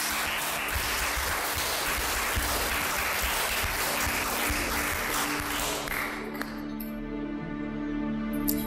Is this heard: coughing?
no